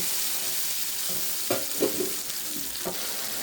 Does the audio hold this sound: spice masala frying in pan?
yes